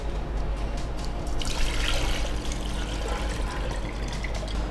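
Tender coconut water pours into a mixer jar in a continuous splashing, gurgling stream lasting several seconds, close and fairly loud, with no talking.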